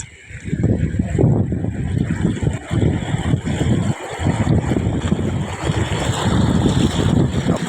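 Floodwater rushes after a day of extremely heavy rain, a loud, turbulent roar with churning surges and wind buffeting the microphone, close and continuous.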